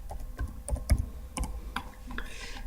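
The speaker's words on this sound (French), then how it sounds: "j'appuie sur entrée" Typing on a computer keyboard, a string of close, sharp key clicks at an uneven rhythm, some keystrokes harder than others, with no talking.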